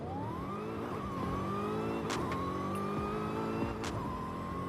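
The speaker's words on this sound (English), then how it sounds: "By far one of the best sounding cars in Forza." A Ford Falcon GT-F engine in Forza Horizon 5 drones and climbs in pitch as it revs and shifts, loud and continuous, with a few sharp bursts over the steady roar.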